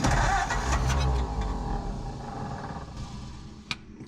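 A 1947 Ford Coupe with a flathead V8, a barn find left sitting for 15 years, roars loudly up close as it revs, the growl easing off and settling lower before a brief sharp knock near the end.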